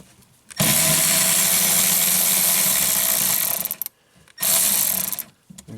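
A Milwaukee power tool, likely an impact-type driver, working on the 10mm bolts of a car's wiper motor, a loud close burst of rattling hammering lasting about three seconds, then a second shorter burst after a brief pause.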